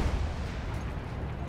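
Grenade blasts and battlefield fire rumble continuously in Battlefield 1, a dense, loud booming wash of explosions with no clear pauses.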